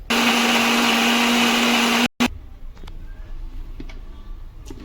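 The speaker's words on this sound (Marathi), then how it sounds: "मिक्सरला लावून घेऊया पटकन." A kitchen mixer grinder blends roasted onion, garlic, ginger, chili and coconut with a little water into a loud, steady whirring whine. It cuts off abruptly, leaving faint clicks and rattles.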